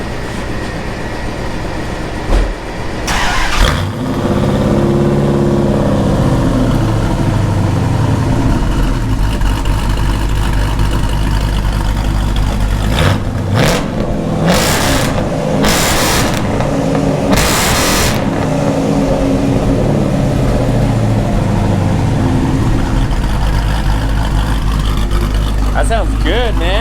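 Dodge Dakota truck fitted with a full Hellcat exhaust, freshly welded in, gives a loud, steady, deep rumble up close, broken by several sharp rising revs toward the end.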